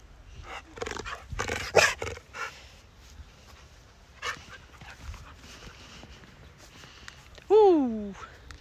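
A dog plays with a stick outdoors, giving panting and short growly vocal bursts in the first seconds, quieter scuffling through the middle, then a sharp rising whine or yelp near the end; someone talks to it at times.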